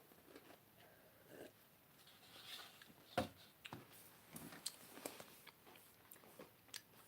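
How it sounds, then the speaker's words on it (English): Someone chews and crunches a chocolate chip cookie close up, faint irregular bites and crisp crunches scattered over several seconds in a quiet setting. "good cookie, nice and crunchy."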